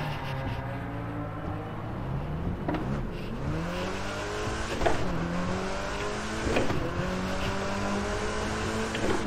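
A car launches hard from a standstill in The Crew 2, raced on a Logitech G923 wheel. The engine revs climb steadily through several quick gear changes, loud and close, with no voices over it.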